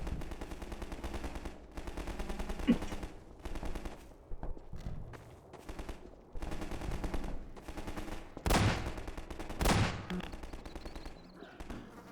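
Gunfire in the video game Half-Life 2, sustained automatic bursts and scattered shots over several seconds with a couple of loud, sharp blasts near the end, mixed with game ambience.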